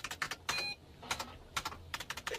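Typing on a keyboard in quiet, irregular bursts of clicking keystrokes, a few pecks at a time with short pauses, fairly faint and with no talk over it.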